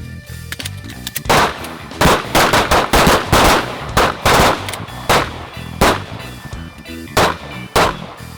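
Handgun gunshots at a tactical shooting range, a rapid string of loud, close reports in quick pairs and bursts with brief pauses between them.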